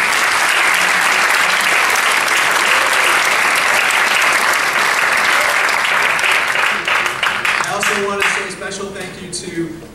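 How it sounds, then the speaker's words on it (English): An audience at a morning civic engagement forum held at a high school breaks into loud, sustained applause that fills the room, then thins out and fades near the end as a voice begins speaking. "Can you give her a round of applause?"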